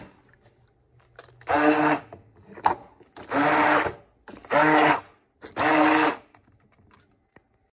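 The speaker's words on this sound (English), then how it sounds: "Quarter cup of lemon juice. Half a cup of sugar, but in this case, a half a cup of monk fruit sweetener. Blend that up a little bit." A kitchen blender whirs through lemon juice and monk fruit sweetener in four short pulses of about a second each, separated by brief pauses and quiet handling noises.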